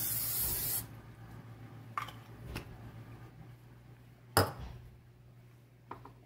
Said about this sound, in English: we are going to spray it with Pam cooking spray. We're using olive oil variety.